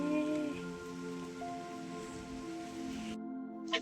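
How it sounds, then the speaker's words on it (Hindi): Steady rain pours down, a dense continuous patter with a low tonal hum running underneath and no voices. "तो यहाँ तो झमाझम बारिश हो रही है"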